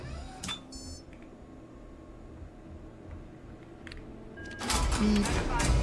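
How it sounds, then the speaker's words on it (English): Short, high electronic beeps come from a terminal in the video game Starfield, a few brief chirps over a low ambient hum, followed by a louder burst of sound near the end. "Beep."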